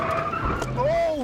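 A car accelerates hard with tires skidding and squealing under heavy throttle, a loud, rising whine that sweeps upward across a brief burst, with a voice speaking over it.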